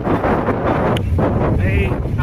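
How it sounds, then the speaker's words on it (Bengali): Strong wind buffets the microphone during a motorbike ride to a fair, giving a loud, continuous roaring rumble with gusty swells that drowns out other sound. "প্রচুর পরিমাণে হাওয়া হচ্ছে, আর যার জন্য একদম আওয়াজের জন্য কোনো আওয়াজ শোনা যাচ্ছে না"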